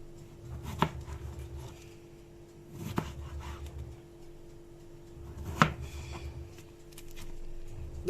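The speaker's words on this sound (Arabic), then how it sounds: "بالطريقه دي هقطع الكميه بتاعتي" Knife chopping potato wedges on a board: three separated, firm thuds a couple of seconds apart, fairly close, with a low steady hum underneath and no talking.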